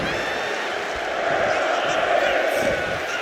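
A wrestling arena crowd in WWE 2K25 produces a steady, dense roar of cheering that swells slightly midway, with a commentator's voice talking over it.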